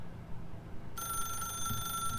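An old-style telephone bell rings in The Stanley Parable video game, a steady bright electronic ring that starts partway through and keeps going over a low room hum.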